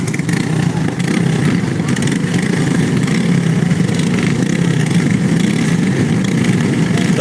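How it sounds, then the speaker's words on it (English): Several go-kart engines idle together on a short dirt track before a heat, a continuous buzzing rumble heard from a moderate distance with steady loudness and a voice talking over it. "they just got their engine started"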